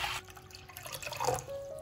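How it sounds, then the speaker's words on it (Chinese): Water poured into a clay pot holding toasted ingredients for a Cantonese sweet soup, a steady close splashing and trickling fill running the whole moment without any talking. "加入适量清水。"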